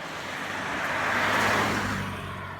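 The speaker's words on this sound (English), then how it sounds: "there's a car coming here for a second" A car on a road approaches and passes close by, its whoosh swelling to a peak midway and then fading, with no talk.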